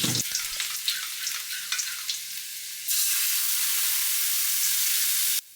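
Cumin and asafoetida crackle and sizzle in hot oil for a Rajasthani-style dish, a busy spitting fry that settles into a steady, loud hiss before cutting off abruptly near the end.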